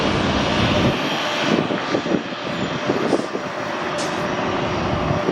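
Regional jet on final approach at Atlanta's ATL airport, a steady broadband engine roar that stays loud and close throughout with small rumbling swells and no voices.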